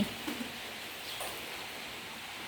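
Light rain falls steadily on a rainy morning, a soft even hiss with no distinct drops standing out, quiet and continuous throughout.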